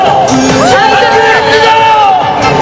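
A large outdoor campaign rally crowd at Gwanghwamun cheers loudly and continuously, with whoops, shouts and dense babble filling the space, and a voice rising above the roar.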